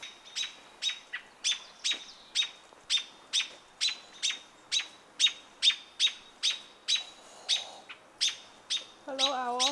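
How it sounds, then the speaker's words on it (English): An American robin near an owl gives loud, sharp alarm calls in a steady rapid series, repeated about twice a second at close range, with a softer bird's trilling call entering near the end. "that robin is very close to it screaming"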